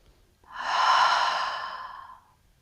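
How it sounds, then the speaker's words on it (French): One slow, audible breath through the mouth during a gentle morning exercise routine, a drawn-out airy rush rising and fading alone over about two seconds. "Encore une fois, on inspire et on expire."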